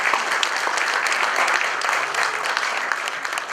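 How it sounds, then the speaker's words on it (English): Steady, dense applause from a large audience at a formal government gathering, continuous clapping throughout with no pauses. "A round of applause, because you all deserve it."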